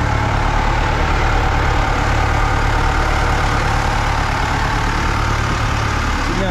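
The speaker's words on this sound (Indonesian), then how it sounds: "Ini kamar mesin." A ship's engine idles inside the engine room of a luxury boat sailing from Bali to Labuan Bajo, a loud, steady low-pitched drone with constant mechanical hum filling the space close by.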